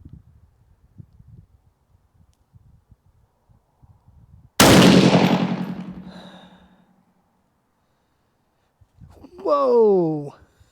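A single loud rifle shot fired through a scope that has worked loose, a sharp crack with a long, fading rolling echo, followed after a quiet pause by a man's brief exclamation.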